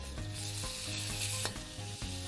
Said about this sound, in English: In order to prevent the pork from sticking, you just want to shovel and then flip.